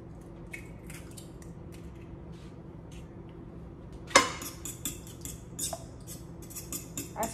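One egg scrambled in olive oil in a skillet: quiet scraping and tapping of a utensil against the pan, light irregular clicks after a soft steady background.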